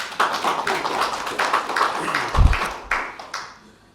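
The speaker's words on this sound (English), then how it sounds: "let's give all of them a round of applause" A small group clapping for election trainers at an official gathering of the Supervisor of Elections, fairly close and uneven, with one heavy thump midway, then tapering off toward the end.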